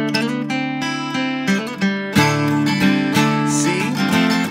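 The guitar part of a song is played up close: bright picked notes and strums that move through a chord change, loud and steady with no voices.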